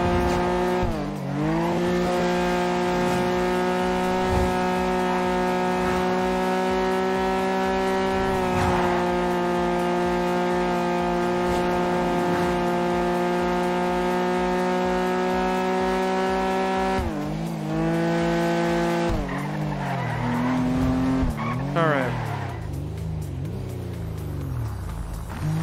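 Sentinel SG4 sports car engine in a racing video game, a steady loud drone with sustained revving, a couple of gear-change dips and tire squeal near the end, heard alone.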